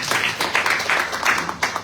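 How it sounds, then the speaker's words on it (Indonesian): Rhythmic congregational hand clapping during a church service, a fairly close, steady pattern of claps over a short stretch. "Berikan tepuk tangan untuk Tuhan."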